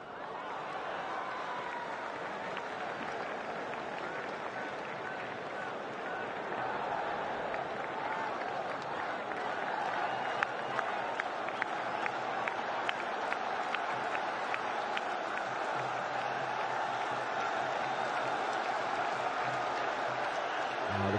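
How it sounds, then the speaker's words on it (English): A large cricket stadium crowd at an India versus West Indies T20 World Cup match keeps up a steady roar of applause and cheering, swelling slightly toward the end, with a voice faintly audible beneath the noise. "Now the crowd in anticipation."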